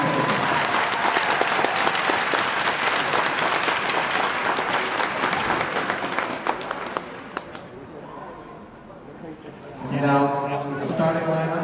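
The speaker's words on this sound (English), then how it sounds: "Please join us and give Mike a quick round of applause" A crowd at a hockey game applauds loudly and steadily for several seconds, the clapping fading out before a voice comes over a public address system.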